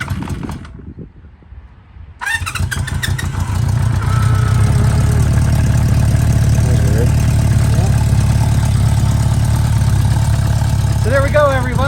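A 1973 Honda CB 350 Four motorcycle engine starts after a brief quiet gap and settles into a steady, loud idle close by. A voice speaks briefly over the running engine.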